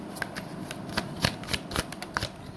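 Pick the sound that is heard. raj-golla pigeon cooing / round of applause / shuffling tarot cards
shuffling tarot cards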